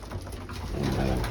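Racing pigeons coo in a close, continuous rolling murmur that swells slightly toward the end of the brief stretch, with no voices over it.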